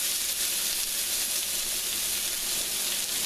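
Pieces of squash fry in a hot pan with a steady, close, loud sizzling hiss that holds evenly throughout, with no voices.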